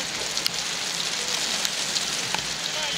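Steady rain falls at an outdoor football match, a dense continuous patter on surfaces with scattered louder drops, heard alone without voices.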